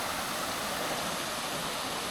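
Large natural springs pour water out into a creek below a canyon, a steady, close broadband rush of flowing water with no pause across the whole stretch.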